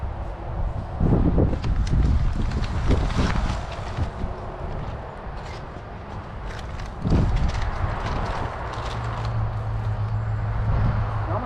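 Wind gusts across a spring garden with raised beds, a steady broadband rush with louder surges that come and go, loud and close on the microphone.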